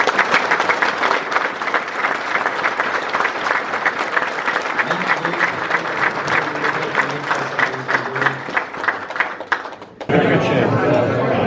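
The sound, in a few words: audience applause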